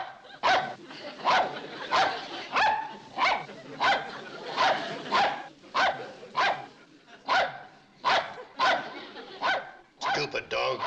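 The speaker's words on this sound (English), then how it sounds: "Stupid dog." A dog barks repeatedly in a steady rhythm of a dozen or so sharp, close barks, indoors in a classic TV sitcom scene.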